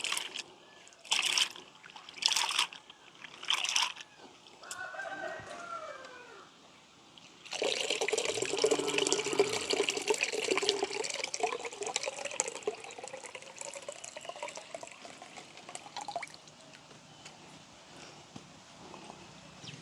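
Soaked chana dal is rinsed by hand in a pot of water in a village kitchen: a few sharp sloshes, then a long run of splashing and swirling water that slowly fades.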